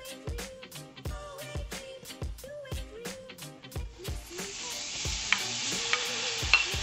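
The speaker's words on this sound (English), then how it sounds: "we're going to turn it back down to 7, medium heat, and we're going to add our cut up lobster" Cut-up lobster cooks in a pan at medium heat, first with rhythmic scraping stir strokes, then with a steady sizzle that rises beneath the continuing stirring.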